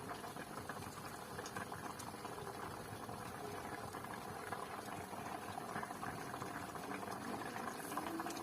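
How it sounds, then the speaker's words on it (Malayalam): Kanambu fish curry with coconut milk simmers in a pot, a steady, faint bubbling and popping that continues evenly throughout. "തേങ്ങാപ്പാൽ ഒഴിച്ചിട്ട് അത് തിളച്ച് റെഡിയായി."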